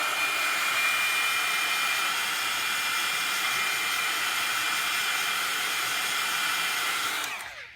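A heat tool blows a steady, loud hiss for several seconds as it dries stamped ink on paper for a faux linen card technique, then cuts off abruptly.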